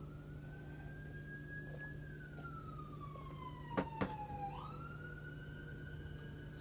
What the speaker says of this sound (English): I have a feeling that siren's going to make it on the video.